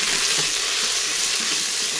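Beef rendang paste frying in a pan, a loud, steady, close sizzle that continues without a break and has no voices over it.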